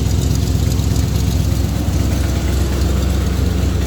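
A 1977 Corvette engine holds a steady, loud, rumbling high idle close by, with an even pulsing throb and no voices.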